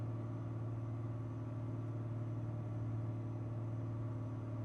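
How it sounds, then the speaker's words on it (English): Freightliner cabover truck engine in Euro Truck Simulator 2, driven at about 110 mph: a steady, loud, unbroken low drone that holds the same pitch throughout, with no talk over it. "110 mile an hour in a friggin' cabover freightliner."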